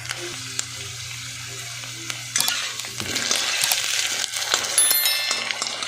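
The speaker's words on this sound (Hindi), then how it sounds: "सबसे पहले हम गराड़ू को अच्छी तरह से फ्राई कर लेंगे" Pieces of garadu yam frying in hot oil in a pan, a continuous sizzle that grows louder and busier midway, with occasional utensil clinks and stirring.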